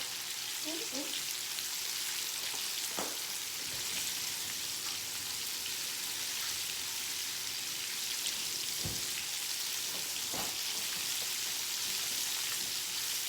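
Buttermilk fried chicken frying in shallow oil in a Saladmaster pan gives a continuous close crackle and sizzle with a few brief knocks and pops.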